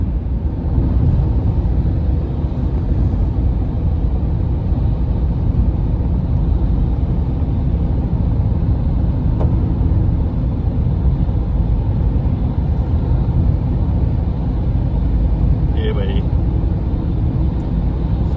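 A car speeds along the Delhi–Dehradun Expressway, a steady low road and engine drone heard from inside the cabin, with a voice talking over it throughout.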